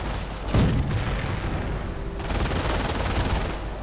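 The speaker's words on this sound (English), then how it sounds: "Combined machine gun fire from the Geschützwagen and the machine gewehr 42 on the right, forcing back the riflemen." Sustained bursts of machine gun fire from a Geschützwagen and an MG42 in a World War II video game battle, with dense rattling volleys and a heavy boom near the start, continuous and loud throughout.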